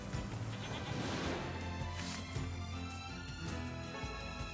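Sheep in the video game Nier Replicant bleat in a wavering, drawn-out cry over a dense game soundscape, moderately loud and repeated across the stretch.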